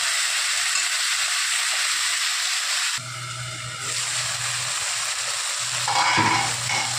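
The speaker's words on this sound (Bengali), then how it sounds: "একটু হালকা ভাজা করে নেব মানে সব কিছু নরম নরম হয়ে যাবে" Onion and tomato fry gently in a pan for an Odisha-style eggplant bharta, giving a loud, continuous close sizzle with brief stirring shifts partway through, and no talking.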